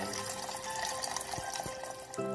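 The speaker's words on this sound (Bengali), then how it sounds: "প্রথমে আমি কুচিনা অ্যাকোয়াগার্ড থেকে জল নিয়ে নেব।" Water runs from a Kutchina Aquaguard purifier tap into a container for one cup of tea, a steady close pour with a few small clinks, no talking.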